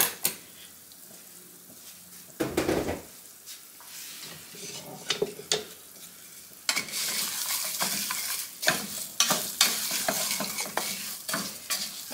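Rice toasting dry in a pan for Spanish rice, with steady stirring and scraping of the grains over a soft sizzle. The sound comes close and fairly loud, rising into busier rustling bursts partway through.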